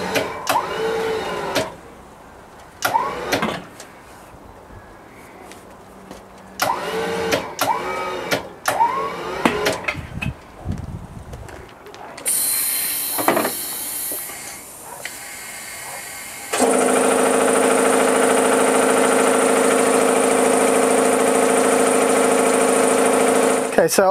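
A tire balancing machine runs at a mobile tire fitment stop while a puncture-repaired tire is rebalanced; clanks and short bursts come first, then the machine spins up into a loud, steady whirring hum.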